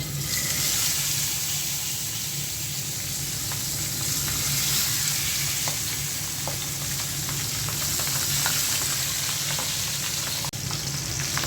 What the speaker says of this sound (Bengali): এখন এই তিনটা মাছও তেলে ভেজে নেব।